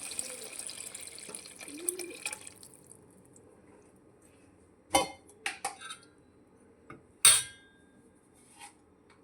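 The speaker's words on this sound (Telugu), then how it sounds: "ఇప్పుడు ఈ చింతపండు రసాన్ని దీంట్లో వేసుకోవాలి." Tamarind juice pours steadily into a cooking pot for okra rasam (bendakaya charu), a soft liquid rush for about two seconds, then a few sharp utensil clinks and taps against the pot.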